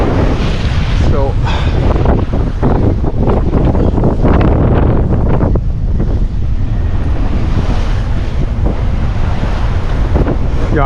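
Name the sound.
strong wind at sea on a sailboat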